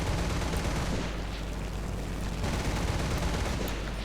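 Tank gunfire and battle noise in the video game War Thunder, a loud, dense, continuous roar of blasts and rumble with no clear gaps.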